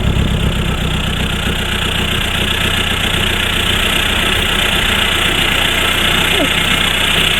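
A VW PD150 diesel engine with a straight pipe exhaust idles steadily, a loud, close, rough drone with a knocking clatter that holds unchanged throughout.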